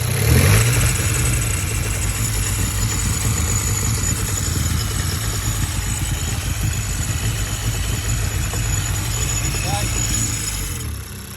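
A cold VW Golf GTI engine revving with an abnormal mechanical noise near the high-pressure fuel pump and camshaft, a steady close engine drone with constant hiss throughout.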